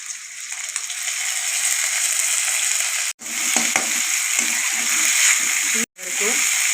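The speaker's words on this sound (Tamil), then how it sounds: "வெங்காயம் நல்லா வதங்கட்டும்" Onions, curry leaves and chillies sauté in hot oil in a pan for a Tamil country chicken fry, making a loud, steady sizzle. The sizzle breaks off twice for a moment, and a faint voice sits underneath.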